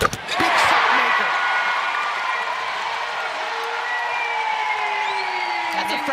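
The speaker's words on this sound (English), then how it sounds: "this crowd is loud and really getting into it" A loud basketball arena crowd cheers and roars after an Iowa three-pointer against UCLA. The sustained roar swells, then holds, with sneaker squeaks and broadcast commentary talk over it.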